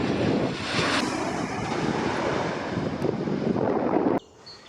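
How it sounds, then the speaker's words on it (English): Airplane landing at Birmingham Airport, a loud steady jet roar heard outdoors with wind buffeting the microphone, holding for several seconds before cutting off abruptly. "what an experience seeing all the planes landed on Birmingham Airport"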